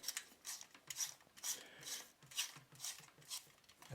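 A Growstar 36W LED grow light bulb is twisted into its socket, making faint, close, rhythmic scraping and grinding turns, about eight in a row.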